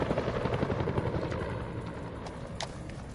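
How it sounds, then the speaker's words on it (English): A helicopter passes by in the video game House of Ashes, its rotor thumping steadily and loudly at first, then easing slightly as it moves off. "Helicopter passes by."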